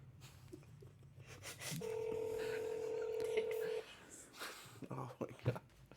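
A single steady telephone tone of about two seconds during a prank phone call, fairly loud, with muffled talk and room noise before and after.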